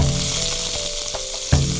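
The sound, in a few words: stir-frying ginger, pickled chili, garlic, scallion in hot wok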